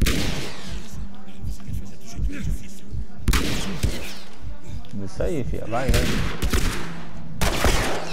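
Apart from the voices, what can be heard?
gunshots in a video game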